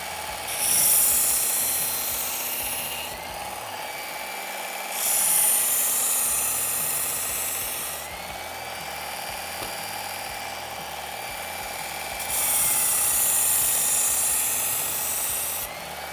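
A knife edge pressed against a fine-grit X22 belt on a running belt grinder, a steady motor whine under three louder hissing grinding passes, close and continuous, with no voices.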